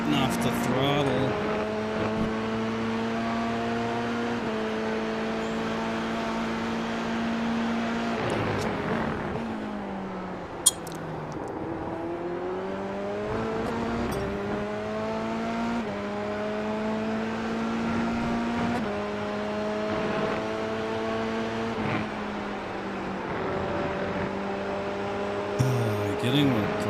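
A Dallara F3 race car engine in iRacing drones loud and close for nearly half a minute, revs rising through gears, dropping sharply under braking around ten seconds, then climbing again, with a driver talking over it.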